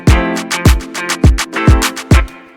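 Dancehall drum pattern built from kicks and claps, five heavy kick hits with crisp claps between them in a laid-back syncopated groove, loud and close with no talking.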